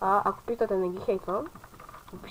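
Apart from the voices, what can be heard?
No everyday noises stand out.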